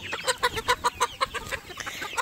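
A Silkie hen clucking up close on a homestead, a quick run of about a dozen rhythmic clucks that fade to softer notes at the end.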